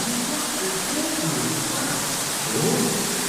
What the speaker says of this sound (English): You may think this is very noisy for this little waterfall here.